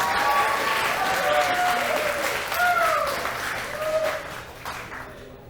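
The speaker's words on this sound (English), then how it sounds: "Give him a round of applause." An audience at a Global Game Jam 2020 showcase breaks into loud, sustained applause, with whoops and cheers rising above the clapping before it tapers off.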